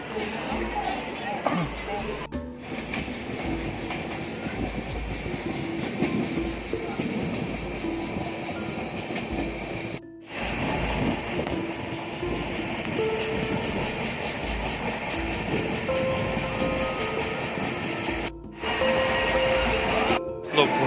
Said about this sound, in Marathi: खानदेश एक्सप्रेस जात आहे